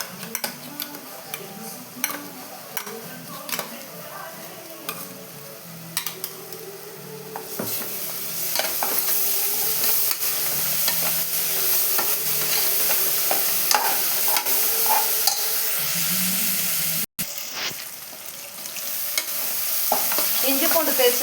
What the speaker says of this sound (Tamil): இஞ்சி பூண்டு பேஸ்ட்டு சேர்த்து நல்லா ஒரு 2 நிமிஷம் நல்லா கலந்து விட்டுக்கலாங்க.